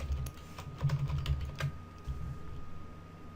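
A computer keyboard being typed on, giving a quiet, quick run of light key clicks in uneven bursts over a low room hum.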